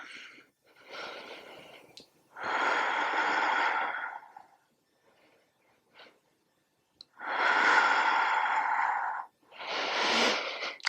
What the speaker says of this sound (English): Connect with your Ujjayi breath.